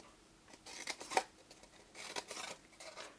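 Close scissors slice a thin strip away from scored card, a handful of crisp snips and rustling cuts in uneven bursts with no talking.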